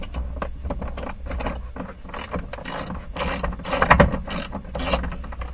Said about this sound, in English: Always be careful of swinging your ratchet near the windshield.